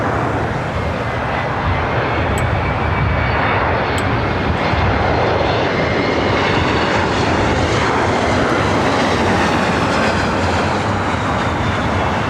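A Delta Airlines Airbus A321 at LAX, bound for Minneapolis, produces a loud, continuous jet engine roar close by, steady and dense across its length with no talking.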